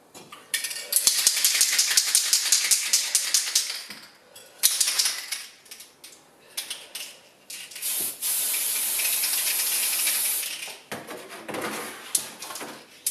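Aerosol paint sprayed onto a Tamiya Dual Ridge 4WD buggy bodyshell gives several close hissing bursts, some long and steady and others short, separated by brief pauses and handling clicks.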